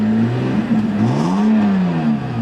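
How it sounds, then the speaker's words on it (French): A BMW E60 six-cylinder engine revs in a steady, smooth rise and fall of pitch, loud and continuous with no talk over it. "Là, j'accélère un peu, je sais même pas si on va l'entendre en vidéo."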